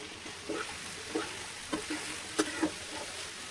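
Carrots and other vegetables frying in oil for veg fried rice, giving a faint, low crackle with a few soft stirring clicks and scrapes, heard alone without voices.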